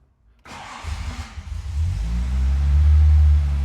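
A 1961 Jaguar E-Type 3.8 Roadster with the choke on cranks briefly and then fires. The engine settles into a loud, deep, steady idle close by, and no voices are heard.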